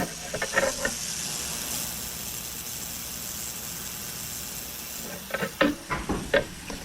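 An ultrasonic cleaner runs with a steady high hiss and hum, framed by a few clicks and knocks at the start and end.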